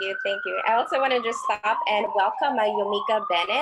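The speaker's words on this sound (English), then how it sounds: "I apologize for the noise and the siren in the background." A wailing siren rises and falls in the background while a person speaks steadily over it.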